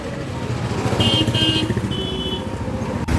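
KTM motorcycles roll slowly past on an Independence Day group ride heading to Belur Math, a steady close engine rumble with faint whining tones and no talk over it.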